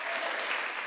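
Applause from a church congregation during a worship service, a steady wash of many hands clapping close and fairly loud throughout the brief moment.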